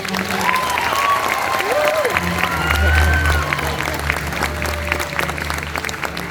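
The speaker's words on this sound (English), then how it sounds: "let's give Jake a round of applause" A concert crowd at a school jazz and jambalaya evening applauds a graduating horn player, steady loud clapping with some cheering while voices and a low sustained tone carry underneath.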